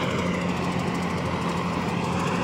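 A wheat harvesting machine's engine runs in a farm field, a steady droning hum with a rough mechanical rattle holding at constant loudness, nearby and without speech.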